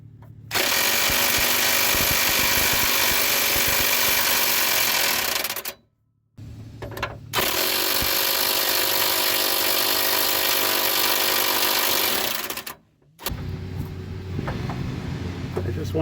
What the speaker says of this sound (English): my impact wrench is clearly too puny to get these off